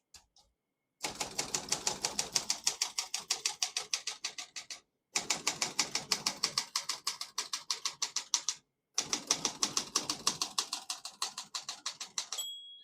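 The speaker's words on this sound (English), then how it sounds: "Once you hear the bell, you're at the end of the margin." A 1970 Olympia SM9 portable manual typewriter clacks in three rapid, steady runs of keystrokes separated by short pauses, with a small margin bell ring near the end.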